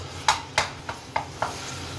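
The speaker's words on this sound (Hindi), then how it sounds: "ऑयल गर्म हो गया, हम इसमें से अदरक जो पेस्ट किया था वो निकाल लेते हैं और इसका तड़का" Ginger paste dropped into hot oil for a tempering, while cooking zeera rice, with a few sharp stirring clicks of a spoon against the pan over a low, steady sizzle.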